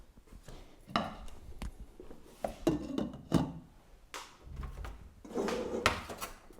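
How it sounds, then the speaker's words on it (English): A lid set onto a pot of crottle lichen wool dye in a home kitchen, heard as a few sharp clattering knocks of metal and wood, close by and fairly quiet, with small handling thuds between them. "Now I'm going to put my lid on."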